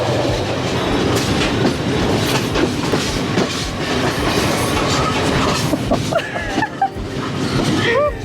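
A train on the Nine Arch Bridge route rolling along the rails with a continuous rumble and rhythmic clatter, wheels squealing faintly near the end, heard from inside the carriage.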